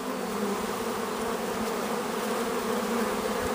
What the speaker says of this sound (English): Most people never see a swarm